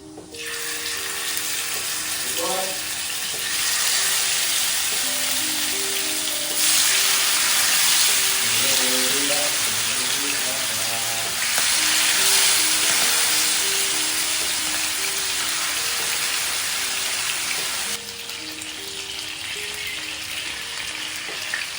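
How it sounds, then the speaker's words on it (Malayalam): Chicken shallow-frying in a pan gives a steady, loud broadband sizzle and hiss that swells and eases in long stretches, with music playing softly underneath. "നമ്മൾ ചിക്കൻ പൊരിക്കുമ്പോൾ നല്ലപോലെ ഡീപ്പ് ഫ്രൈ ആയി കിട്ടേണ്ട ആവശ്യമില്ല"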